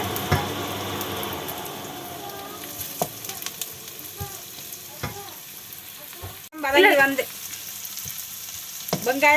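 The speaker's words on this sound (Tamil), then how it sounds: "இப்போ பார்த்தீங்கன்னா வெங்காயம் வதங்கி வந்துடுது" Onions sauté in a pan for egg noodles, a soft continuous sizzle with occasional utensil taps and a louder burst of crackling and stirring midway.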